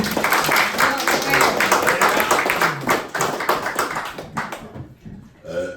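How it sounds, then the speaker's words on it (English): Audience applause and scattered cheering for a comedian being introduced on stage, a dense steady clatter of many hands that thins and fades out toward the end. "we're gonna give a big round of applause for our next comedian, Jill Clare, everybody"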